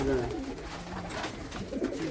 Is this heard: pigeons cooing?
yes